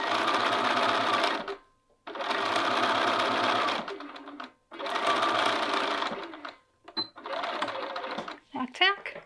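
A home sewing machine stitches around a long sleeve for a garment, running in several loud bursts of rapid, even needle chatter separated by short pauses and small clicks.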